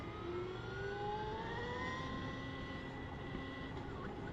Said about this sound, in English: It's quiet, it has a little whining sound. You can hear it regen.